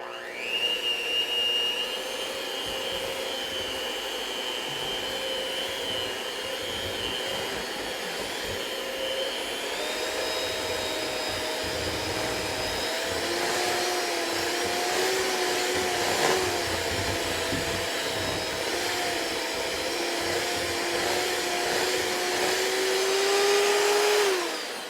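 An electric mixer whirls red velvet whoopie pie batter with a steady, high motor whine that shifts pitch slightly as it runs, continuous and fairly close, with no talking.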